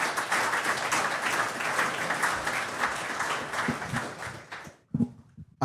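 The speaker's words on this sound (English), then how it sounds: "Give these two gentlemen a huge round of applause" An audience applauds as two guests are called up at a Bitcoin talk, a dense, steady wash of clapping that fades out toward the end, followed by a couple of isolated sounds.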